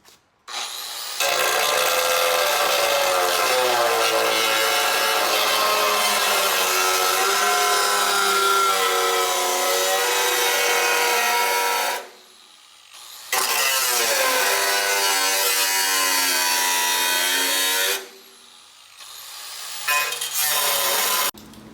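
Trimming a rust repair patch panel on a VW Golf Mk1 body produces loud, harsh, continuous power-cutting noise in three long runs separated by short pauses, with no talking.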